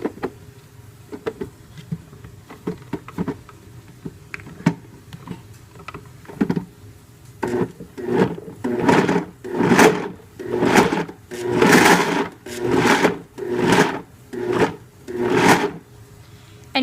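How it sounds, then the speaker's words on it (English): A kitchen blender chops cauliflower into rice in repeated pulses: faint knocks and rattles at first, then a run of loud, buzzing motor bursts about a second each with short gaps between them. "I'm doing it in sections so I don't overwhelm my blender."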